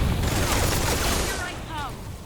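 Grenade blast and gunfire in the video game Metal Gear Solid Delta: Snake Eater, heard as a loud, dense burst of booming, rattling shots that fades slightly toward the end.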